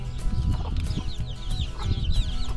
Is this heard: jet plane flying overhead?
no